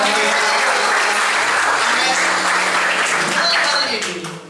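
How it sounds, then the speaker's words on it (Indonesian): A church congregation applauds during a service, with dense, loud, steady clapping throughout and a slight fade at the very end. "Tepuk tangan buat Tuhan kita."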